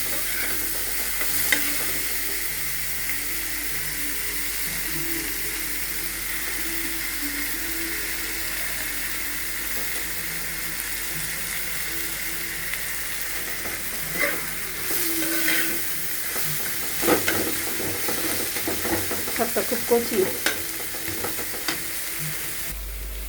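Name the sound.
red amaranth greens frying with onion in oil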